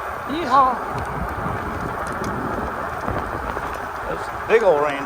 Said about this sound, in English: Those big old raindrops.